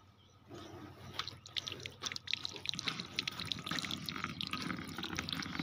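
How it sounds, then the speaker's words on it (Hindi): Water dripped and trickled in small amounts while mercury is washed, a soft, steady wet patter of drips and splashes with a faint background hum, no talking. "डाल थोड़ा थोड़ा पानी"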